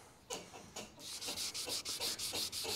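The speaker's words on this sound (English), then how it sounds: "as we're sanding it with some water" Clear coat on a tractor's paint is wet sanded by hand, giving rhythmic back-and-forth rubbing strokes, close and fairly quiet, with no talking.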